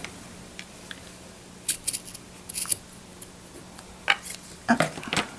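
Scissors snip through cardstock for handmade Christmas cards, a scattering of short, crisp cuts close by, some single and some in quick pairs, with quiet pauses between them.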